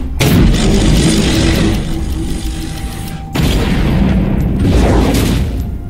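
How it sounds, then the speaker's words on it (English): A turret being destroyed in League of Legends, a heavy booming crash that rumbles on, then a second loud blast a few seconds later, with no talking. "Your turret has been destroyed."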